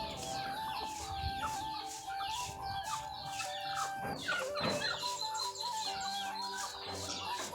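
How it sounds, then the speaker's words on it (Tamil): Chickens at a goat farm cluck busily and continuously, with a rooster crowing and birds chirping mixed in at moderate distance. "பார்த்திங்கன்னா பின்னாடி கோழி சவுண்ட் வந்து ஓவராக கேட்குது"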